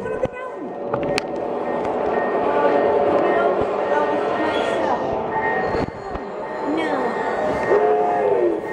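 A train at Edaville Railroad rumbles past with clattering wheels and faint metallic squeals, loud and close, while people talk over it.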